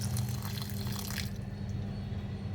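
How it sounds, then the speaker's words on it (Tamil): A quarter tumbler of water pours onto jaggery in a kitchen, a close, splashing, trickling flow that thins and fades after about a second, leaving a low hum. "இப்போ இதோட ஒரு 1/4 டம்ளர் தண்ணி சேர்த்துக்கிறேன்."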